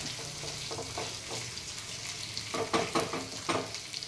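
Sizzling oil in a bandi with steady frying hiss and scraping stirs, growing busier in the second half with several sharp spatula strokes against the pan; no talking.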